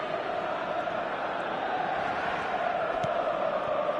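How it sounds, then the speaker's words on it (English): A virtual stadium crowd in the eFootball video game makes a steady, even roar and murmur that holds throughout without any swell of cheering. "the crowd have tried to spark some excitement, but to no avail"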